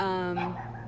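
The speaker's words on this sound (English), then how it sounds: "I apologize for the barking, but it's nothing I can do." A dog yelps in one sharp, close, whining bark that trails off within a second during an outdoor walk.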